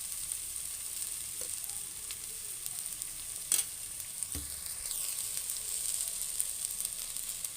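Drumstick pieces and spices for sambar fry in a pan with a steady, soft sizzle, broken by a few stirring clicks and scrapes, close and with no talking.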